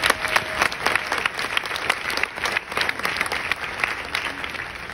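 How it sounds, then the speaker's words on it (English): An audience applauds steadily throughout, a dense wash of many hands clapping at moderate distance, with the crowd's sound rising and dipping slightly but never stopping. "please give yourselves a round of applause"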